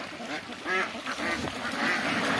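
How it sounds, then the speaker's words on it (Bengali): Many ducks quacking at a large duck farm, said to hold about 95,000 birds, a dense overlapping chorus of nasal calls with a few louder nearby quacks standing out from the crowd. "95 হাজার হাঁস পালা হয়"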